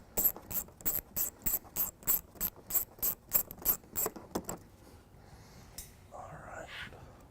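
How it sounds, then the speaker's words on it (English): Ratchet backing out 8mm bumper bolts on a 2012 Mini Cooper Countryman, a steady run of about a dozen close, crisp clicks in even rhythm that then stops, followed by faint handling noise and a breathy whisper. "first step to taking off the bumper, we'll be removing these two 8mm bolts right here"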